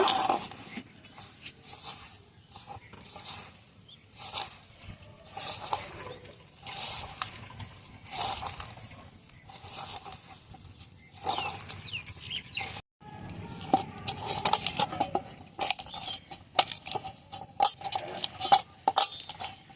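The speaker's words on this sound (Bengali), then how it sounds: "এখন সবকিছু মাখিয়ে নেব" A cooked semolina snack mixture is mixed and worked by hand into a soft dough, producing irregular close squelching, patting and scraping bursts with short pauses between them.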